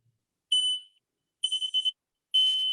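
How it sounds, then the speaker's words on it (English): Shrill electronic smoke alarm beeps sound in short bursts, one long tone followed by a rapid stutter of chirps and another sustained blast. "the sound of the smoke alarm"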